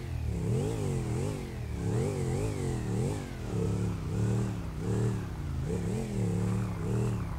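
A motorcycle engine in a video game revs over and over in a steady rising-and-falling pattern, close and continuous, with no talk over it.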